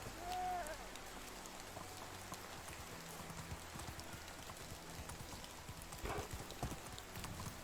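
Horse hooves clip-clopping in Medieval Dynasty, a steady trotting rhythm over rainfall and ambient game sound, with a brief whinny-like tone near the start.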